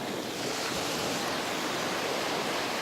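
Surf at Dumpton Beach in Ramsgate rolls in as a steady, loud wash of broadband water noise, continuous and unbroken with no voices.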